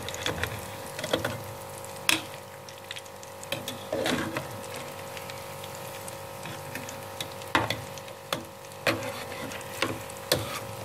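Nigerian egg rolls frying slowly in a pan, a soft steady sizzle with scattered sharp clicks and taps of a utensil against the pan, moderately quiet and without talk.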